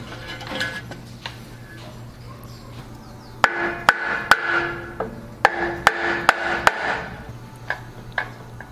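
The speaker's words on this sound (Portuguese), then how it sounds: "Eu vou descer essa metade da carcaça na outra" On a Volkswagen Kombi engine rebuild, one half of the engine case is lowered onto the other half with the crankshaft inside, producing a series of sharp metallic knocks and clunks over a low mechanical hum.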